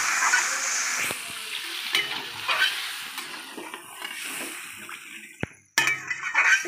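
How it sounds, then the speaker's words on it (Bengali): Water goes into a spiced fish curry in a pan with beans and turnip, and the mix is stirred with scraping strokes and light clinks. Soft sizzling sits under it, a brief pause comes near the end, and stirring resumes. "জলটা দিয়ে নাড়িয়ে নিচ্ছে।"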